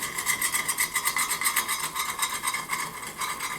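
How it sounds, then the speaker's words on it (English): A whisk scraping rhythmically through a roux for sausage gravy in a pan, brisk repeated strokes, close and steady with no talking. "whisking, whisking,"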